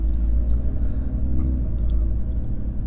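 A deep, steady engine rumble with a low exhaust drone from a Stage 1 tuned Audi RS3 quattro, close and constant throughout, with no speech.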